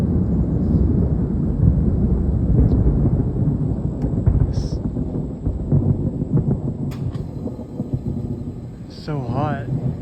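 Loud thunder rolls in a long, continuous rumble with no rain, filling the air; a few faint bird chirps break through near the end.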